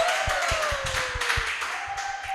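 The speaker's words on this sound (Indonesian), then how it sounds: "tepuk tangannya dong" Scattered audience clapping on an Indonesian talk show, a handful of sharp claps over a faint steady tone, fairly close and brief.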